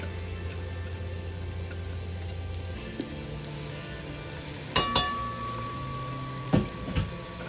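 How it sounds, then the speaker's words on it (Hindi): Chopped medium-sized onion hits hot oil in a pan with a steady low sizzle, punctuated by a few sharp clattering pulses from the pan and spoon, with no talk over it. "अब इसके अंदर मैं डालूंगी प्याज।"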